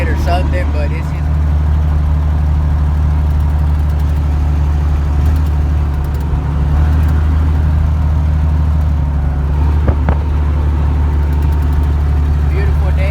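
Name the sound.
Stepside truck engine running with a slight noise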